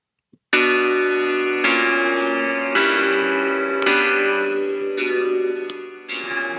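A synthesized sound in FL Studio run through a Cathedral reverb preset: six sustained, bell-like chord stabs struck one after another, each ringing out with a long, dark, spacious tail, alone and clear.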